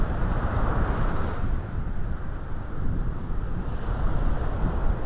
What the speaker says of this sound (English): A bit breezy. The surf is up, but not near as rough as it was yesterday.